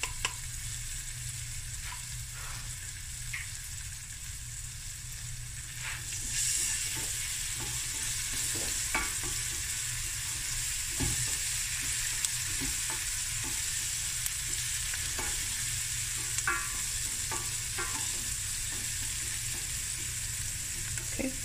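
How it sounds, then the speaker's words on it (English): Garlic and ginger fry in a pan with a steady, even sizzle that runs throughout, broken by occasional soft scrapes and clicks of stirring, close up and with no voices. "Okay, now I'm gonna add garlic and ginger."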